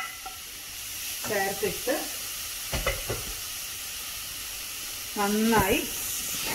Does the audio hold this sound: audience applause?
no